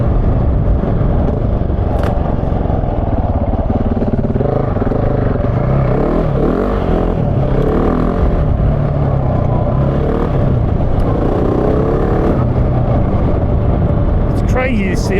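A GasGas 700 motorcycle being ridden through bush where kangaroos roam, its engine revving and surging in waves against rumbling wind and clatter, with a rider talking over the engine noise.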